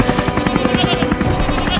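A cartoon helicopter whirs in a fast, continuous buzzing flutter, loud and close, with rapid rotor pulses throughout a brief stretch of under two seconds.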